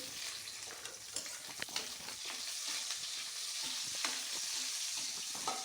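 Garlic and onion fry in a pan for niluyang manok, a close, steady sizzle broken by frequent scraping stirs and light clatters.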